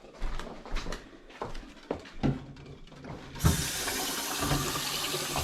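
Cool water runs from a tap into a sink over freshly boiled eggs. It comes in splashy bursts at first, then turns into a steady, close gush.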